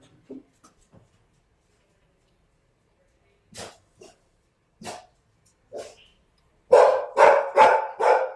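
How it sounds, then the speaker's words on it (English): A dog barks in the background, first a few scattered, fairly faint barks, then a louder run of four quick barks near the end, with muffled speech between them. "My dog Peggy in the background."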